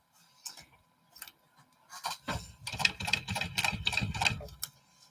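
A sewing machine stitching while basting a quilt, heard as a close burst of rapid mechanical ticking and whirring after a few separate quiet clicks.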